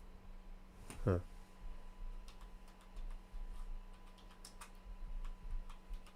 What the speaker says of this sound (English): I was just typing random things.